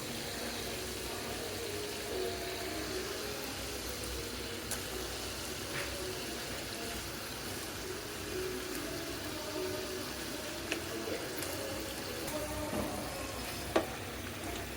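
Rohu fish from the Titas river goes into a well-fried spice paste for a hot curry, producing a continuous, even sizzle close by, with occasional faint clicks and stirring scrapes.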